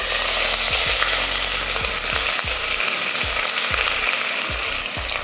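Whole spices (cinnamon, star anise, cloves, cardamom, bay leaf) and large onion frying in hot oil, a loud continuous sizzle with repeated scraping and stirring strokes in the pan.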